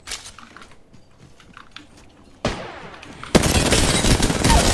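Gunfire in the video game Apex Legends: scattered quick shots, then a burst of dense, continuous automatic fire that grows loud and sustained toward the end.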